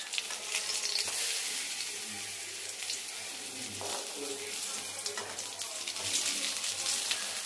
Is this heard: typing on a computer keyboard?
no